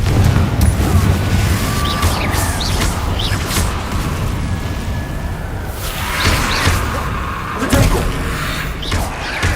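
Booming blasts and whooshes from the Confringo spell in Hogwarts Legacy, loud explosive bursts repeating over a dense bed of game combat noise.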